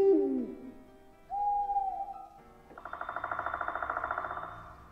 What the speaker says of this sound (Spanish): qué mejor que el sonido de unas aves nocturnas así como este